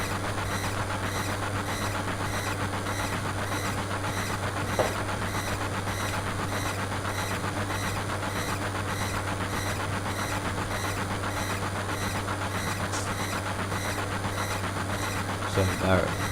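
A train rides along in Final Fantasy VII, producing a steady, dense rumble with a low hum that runs the whole time and a brief rattle near the end.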